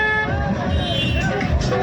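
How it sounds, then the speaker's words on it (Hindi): A car horn sounds in a sustained honk during a driving lesson, holding a steady tone across the whole moment over the low rumble of the car. "चलिए हॉर्न दीजिए"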